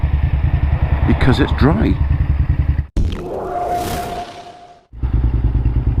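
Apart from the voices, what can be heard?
Honda Firestorm VTR1000 motorcycle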